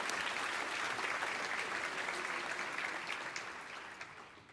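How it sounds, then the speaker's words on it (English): Audience applause fills Royce Hall at UCLA during a congressional district swearing-in ceremony, a steady dense round of clapping that holds for several seconds and then gradually thins out toward the end. "Let's give another round of applause to UCLA and Chancellor Block"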